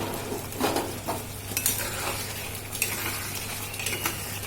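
An egg goes into a pan of frying spiced curry masala and is stirred, with a hissing sizzle and quick scraping strokes of a utensil close by.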